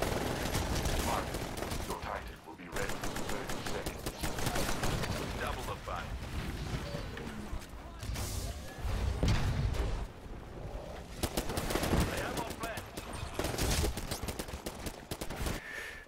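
Smart pistol fire in the video game Titanfall rattles almost nonstop in rapid, dense volleys, with a few short lulls and heavier booming impacts mixed in.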